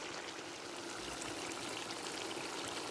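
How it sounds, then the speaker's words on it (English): Water pours steadily into a pot of Jamaican curry chicken, a continuous close splashing rush that holds evenly for the whole moment with no voices. "now I'm adding a little water to this and then I'm just gonna allow it to simmer down"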